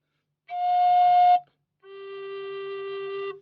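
Two sustained, breathy low tones blown on a plain bamboo flute tube with no holes drilled, the first slightly higher, each held about a second with a pause between.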